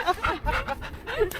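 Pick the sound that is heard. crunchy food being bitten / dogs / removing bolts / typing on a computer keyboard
dogs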